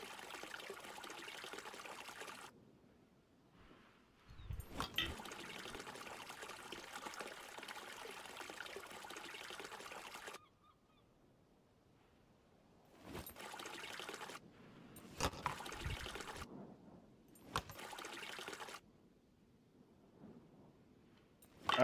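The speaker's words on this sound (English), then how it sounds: "Let me get us some motherfucking fresh water." Fresh water collected from a stream in the survival video game SCUM, a steady trickling flow that plays in long stretches, broken by pauses and a few clicks, fairly faint.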